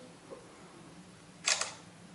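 A Samsung Galaxy Note 5 front-facing camera fires its shutter once, a short, crisp double-layered click that is near and fairly loud against a quiet room background.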